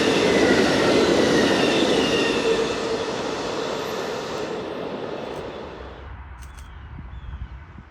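Amtrak 164, a heritage locomotive in Phase IV livery hauling the Empire Builder, rumbles past loudly with screeching wheel squeal, gradually fading as it moves away.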